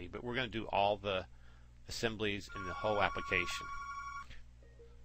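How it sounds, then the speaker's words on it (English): Telephone ringing in a room during a software tutorial, a steady electronic ring pattern that starts partway through and rings under a man's ongoing speech. "Sorry about that phone, the video must go on."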